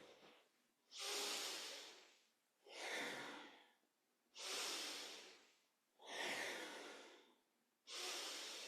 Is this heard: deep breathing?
yes